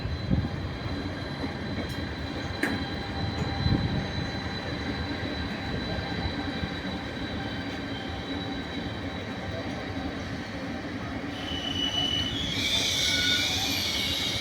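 A regional train pulls into platform 3 at Venezia Mestre station with a low rolling rumble and steady wheel hum. Metallic brake squeals rise near the end as it slows. Station announcements sound over it.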